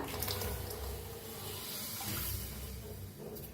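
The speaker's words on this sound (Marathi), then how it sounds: "आता ह्याच्यातच ओतूया एक ग्लास मी दूध घेतले बघा" Milk pours from a glass into a pot of sugared masala tea on the stove, a faint, steady liquid splashing and trickling that lasts a few seconds.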